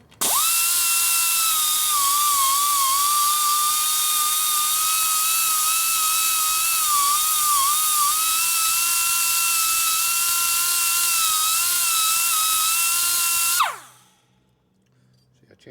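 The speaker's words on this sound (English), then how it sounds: "Do not grind into the seat on this side" A power grinder cuts a valve seat on the cylinder head of a 1980 Harley-Davidson Sportster 74ci stroker. It makes a loud, steady high whine with slight pitch wobbles for about thirteen seconds, then stops abruptly.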